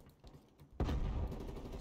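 Gunfire in the video game Call of Duty Black Ops Cold War: faint clicks and movement, then a sudden loud burst of rapid automatic fire that carries on steadily to the end, with no speech.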